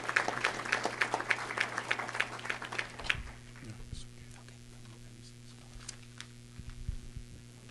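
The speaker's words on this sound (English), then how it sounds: "one more clap" A short burst of scattered clapping for about three seconds at a banquet dinner, then it stops, leaving a low steady hum and faint voices in a quiet room.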